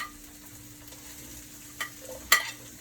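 Thyme and celery go into a pan already sizzling with sweet pepper for a Jamaican-style seasoning. A faint, steady frying hiss runs throughout, broken by a couple of sharp clinks from stirring near the end.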